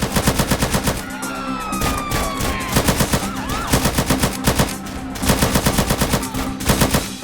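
Rapid automatic gunfire in GTA San Andreas, loud and close, dense regular bursts repeating throughout with short gaps, a whistling sweep passing in the middle, and no talking.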